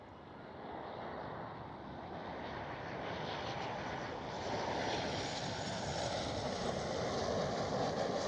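A KLM Boeing 737 at Schiphol Amsterdam makes a broad, steady engine roar that swells louder as the jet draws closer.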